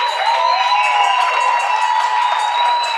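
A studio audience cheers and applauds a guest on a night show in Ecuador, a steady wash of crowd noise held at even loudness without break.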